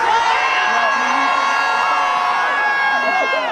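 A large protest crowd at a Freddie Gray demonstration screams and cheers in a sustained, loud roar, with shrill voices rising over the dense wall of noise.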